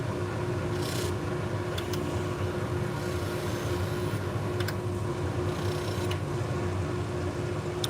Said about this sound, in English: I'm just going to go to the polishing wheel, just kiss it on the polishing wheel.